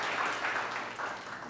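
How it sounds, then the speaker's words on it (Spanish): Church congregation applauding during a Spanish-language sermon, a steady wash of many hands clapping at moderate distance, fairly soft, with little speech. "Dale un aplauso al Señor."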